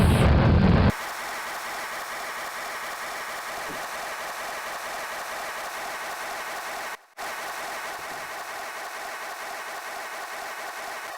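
A rocket engine lifts off in the video game Kerbal Space Program with a sudden loud burst, then settles into a steady, even roar. A brief dropout comes partway through before the roar resumes.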